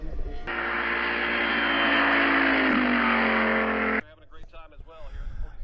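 A race car at The Mitty 2019 event roars past loudly, its engine pitch sliding down as it passes, with some off-throttle popping, then cuts away abruptly to someone talking.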